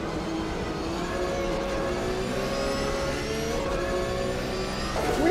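GT3 race cars lap Oulton Park at night in Automobilista 2, engines droning steadily at mid pitch with shifting harmonic whines, then revving up sharply near the end; no one speaks.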